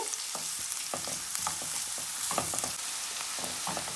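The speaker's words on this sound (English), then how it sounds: "in the pan, I have about a tablespoon and a half of oil we're gonna go in with our onions and we'll cook the onions about a minute and a half" Onions fry in about a tablespoon and a half of oil in a pan, with a constant close sizzle and repeated scraping stirs at an uneven rhythm throughout.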